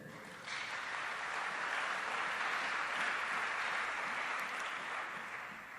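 A church congregation at a worship service applauds to acclaim the Lord, producing a dense, sustained wash of clapping that starts abruptly, holds steady for several seconds and then thins slightly toward the end, with no clear speech over it.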